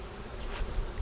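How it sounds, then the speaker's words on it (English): Honey bees buzz around an open beehive during a honey super addition, a dense, continuous hum heard close up for a moment. "We got all kinds of bees in there"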